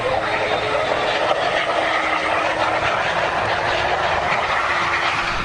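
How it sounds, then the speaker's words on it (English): A Polish Boeing 767 belly-lands on the runway without its landing gear, heard from inside the cabin as a loud, continuous roaring rumble that holds steady throughout. "This is the moment of contact on the runway, shot from inside the cabin."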